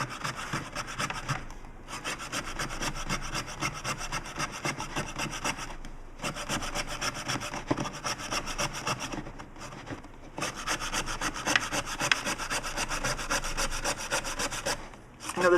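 A hand saw, not a hacksaw, rasps through the housing of a flickering Hyperikon PAR38 LED bulb in steady back-and-forth strokes, pausing briefly twice, close and fairly quiet with no talk.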